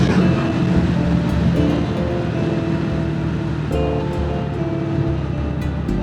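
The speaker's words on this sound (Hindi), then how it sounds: "ये कोई व्हीकल गया है, पूरा पानी डाल के गया है लेफ्ट साइड" Vehicle passing on a muddy, wet road and splashing water, heard as a steady loud rush of wind and spray over a constant engine drone, with a brief surge partway through.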